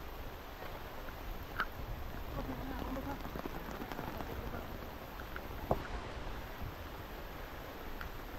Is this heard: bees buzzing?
no